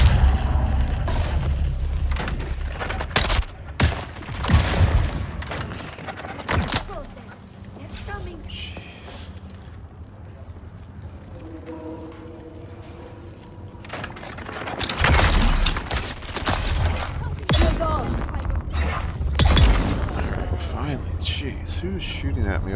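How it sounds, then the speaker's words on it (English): Gunfire in Dune: Awakening, several loud booming bursts scattered through the stretch with quieter gaps between, mixed with someone talking over much of it. "Jeez, who's shooting at me over here?"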